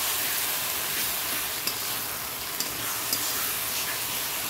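Mutton sizzles loudly as it is stir-fried with spices in a pan, a dense continuous hiss punctuated by a few faint clicks of the stirring utensil.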